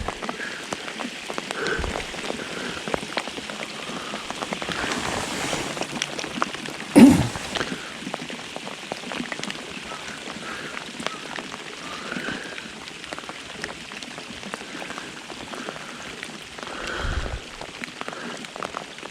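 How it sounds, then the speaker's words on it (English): Heavy rain pours down with steady patter over a continuous hiss, with frogs croaking now and then and one brief louder splash partway through, during crappie fishing. "It's pouring."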